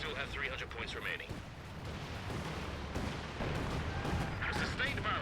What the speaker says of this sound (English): Sustained barrage is being fired as ordered.